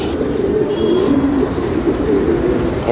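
Racer homer pigeons coo in soft, repeated throaty rolls close by, overlapping one another against a low hum of background traffic.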